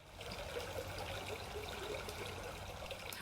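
Steady, gentle trickling of a stream, continuous and soft, water babbling without pause.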